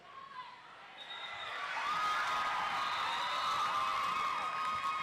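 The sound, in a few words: crowd cheering for Wales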